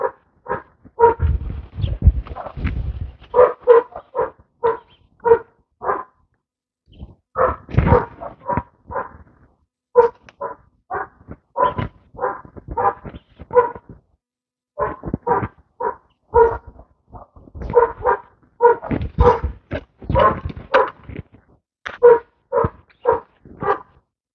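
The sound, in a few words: dogs barking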